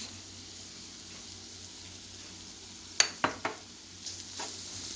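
Liver frying Gaziantep-style in a pan with chili flakes and black pepper, a steady soft sizzle with three quick scraping stirs in the middle and a lighter clatter toward the end.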